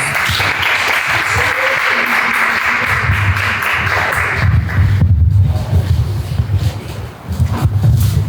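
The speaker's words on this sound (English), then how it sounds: "Please give them a round of applause." Sustained applause from a crowd at a school celebration, steady and fairly loud, with a brief dip near the end before the clapping resumes.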